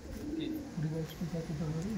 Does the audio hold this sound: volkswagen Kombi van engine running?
no